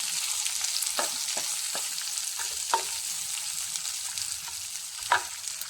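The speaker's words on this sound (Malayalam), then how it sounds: "ഒരു സവാള അരിഞ്ഞതും 2 പച്ചമുളകും ഇട്ട് കൊടുക്കാം. എന്നിട്ട് അതൊന്ന് വാട്ടി കൊടുക്കാം." Chopped onion and two green chillies sauté in a pan with a quiet, even hiss, broken by a handful of sharp clicks and scrapes as a spoon stirs.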